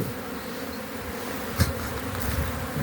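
Honeybees buzzing around hives at an apiary in early spring, a steady diffuse hum with one brief closer fly-by, no voices.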